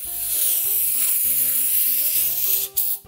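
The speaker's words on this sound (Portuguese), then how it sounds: "vamos colocar mais neve de spray" Artificial snow spray hisses steadily from an aerosol can onto a Christmas miniature village, a loud continuous spray with a brief pause near the end, over soft background music.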